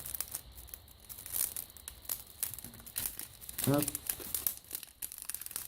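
Wrapping paper crinkles and tears off a gift in several rustling bursts, with a brief sharp rip near the end, quiet and close while a person speaks briefly.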